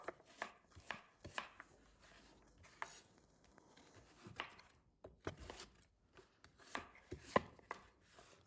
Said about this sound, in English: We are going to dice these up